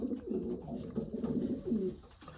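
Pigeon cooing close by, a steady series of soft, throaty rolling coos with no talking.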